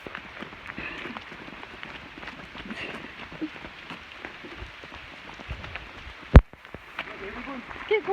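Steady rain falls outdoors with a dense, even patter, while people talk and call out over it and a sharp knock cuts through near the end.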